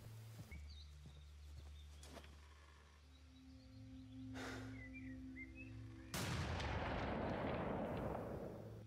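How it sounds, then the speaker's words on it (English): Sniper rifle fire in the survival shooter Next Day: Survival: a few sharp distant cracks spaced seconds apart, then a loud booming blast with a long rumbling tail over a low steady background hum. "Kinda wanna try the sniper rifle from a distance"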